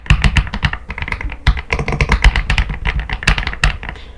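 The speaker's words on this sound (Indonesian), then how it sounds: "cakep banget kan untuk di suara mechanical dari keyboard Aula F75 Pro ini" Fast typing on an Aula F75 Pro mechanical gaming keyboard, close and crisp, with dense rapid clacks, thocky bottom-outs and a few heavier spacebar-like strikes in an uneven burst.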